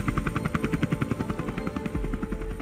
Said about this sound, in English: we add the sounds of rotors